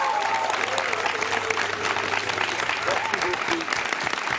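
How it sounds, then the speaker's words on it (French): Crowd applause during a live TV broadcast in Burkina Faso, steady and dense throughout, with a presenter's voice carrying over the clapping. "on va vous envoyer un tonnerre d'applaudissements depuis Ouagadougou"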